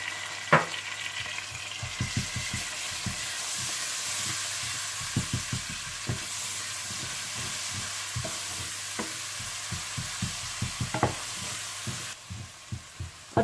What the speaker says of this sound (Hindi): और जब प्याज हल्के गोल्डन ब्राउन हो जाए तो आप इसमें पिसा हुआ अदरक लहसुन डालकर भून लें।